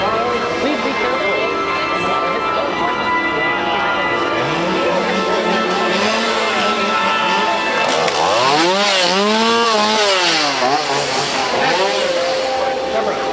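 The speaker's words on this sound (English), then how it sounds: "Chainsaw!" A chainsaw revved by a scare actor at Halloween Horror Nights, its engine whining and surging up and down in pitch close by, loud amid crowd noise and voices.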